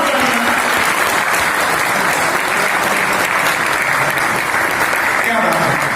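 A ceremony audience bursts into dense, sustained applause, a loud and continuous wash of many hands clapping with no let-up and no voices standing out.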